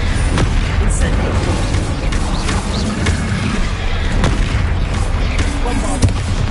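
Incendio fire spell cast in the Hogwarts Legacy video game: a loud, continuous roaring blaze, low and dense, punctuated by repeated sharp bursts and booming impacts every second or so, close and steady throughout.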